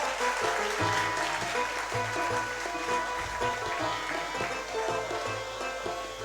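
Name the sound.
applause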